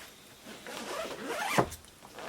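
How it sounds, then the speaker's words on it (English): Zipper on a Patagonia Black Hole 32L backpack pulled open in one steady run that rises and ends in a quick final zip, close and quiet with no talking. "this is going to unzip"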